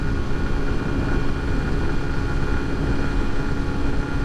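A ten-year-old stock-engine Yamaha Gladiator SS125 125cc motorcycle ridden at high speed, around 110 km/h, with a loud, steady, unbroken roar of engine and rushing wind throughout.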